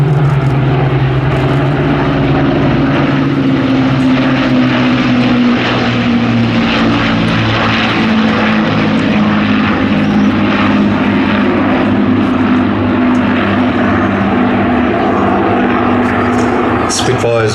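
Avro Lancaster, Hawker Hurricane and Supermarine Spitfire propeller warbirds of the BBMF flying at the Midlands Air Festival 2025, giving a loud, steady, throbbing piston-engine drone that holds throughout with no break.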